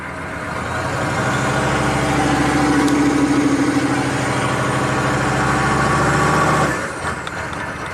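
A Chevy 6.5 turbo diesel engine runs in gear under light throttle, a loud, steady, rough low rumble close by that holds for several seconds before easing off near the end.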